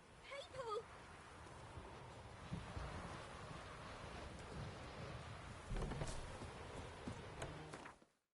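A thunderstorm rumbles with heavy rain hissing steadily, low thunder rolling through and occasional louder cracks, before the sound cuts out sharply at the end; a voice seems to speak under the storm.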